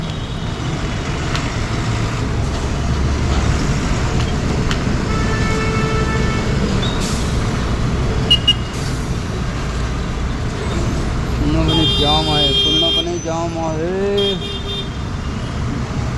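Busy road traffic near Gokul Nagar, with a steady loud roar of cars, trucks and buses, several horn toots and hisses of air brakes, and voices talking over the din.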